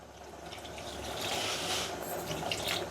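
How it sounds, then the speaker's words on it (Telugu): A thin stream of water pours and splashes into a pan of jaggery being melted for payasam, trickling steadily with soft background hiss. "కొద్దిగా నీళ్లు పోసుకుందాం కరిగేదానికి"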